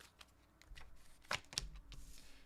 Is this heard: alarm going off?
no